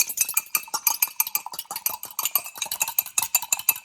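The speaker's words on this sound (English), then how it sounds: "crack 1 egg into a container, and then I'm going to whisk it up." An egg whisked in a container while burger baps are prepared, quick rhythmic tapping and clinking of a utensil against the sides, close and fairly light, with no talk.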